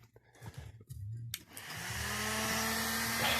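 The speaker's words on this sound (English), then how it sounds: "use your hair dryer or heat gun, but don't put it too close or it will melt it" A hair dryer starts up and blows hot air onto the carpet of a BMW E36, a steady whooshing roar after a few soft handling sounds, close and continuous.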